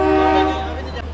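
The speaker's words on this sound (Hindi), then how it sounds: "ट्रेन हॉर्न कितना खतरनाक था इस ट्रेन का।" A loud, sustained horn of the Sarbat Da Bhala Express at Ludhiana Junction, with strong steady tones fading after about half a second, over a continuous low rumble.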